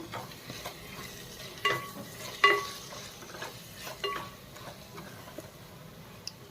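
A spoon clinks and scrapes as vegetables with potato are stirred in a pan for paneer biryani, soft irregular taps over a faint sizzle, close and fairly quiet.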